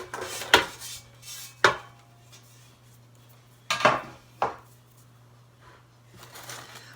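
Freeze-dried rabbit bone broth being broken up by hand in a large roasting pan, a few sharp crackling snaps and clatters in bursts separated by quiet, over a faint steady hum.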